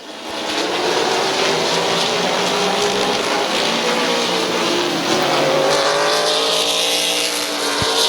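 Race cars roaring around the oval at Midvale Speedway during a close late-race battle, a loud continuous engine drone with shifting pitch as the pack passes, filling the whole clip.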